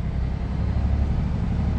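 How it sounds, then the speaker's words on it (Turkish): Truck climbing a snowy road while a car passes on the left, giving a continuous low engine rumble that stays loud and steady with no talking. "Solumda da araba geçiyor."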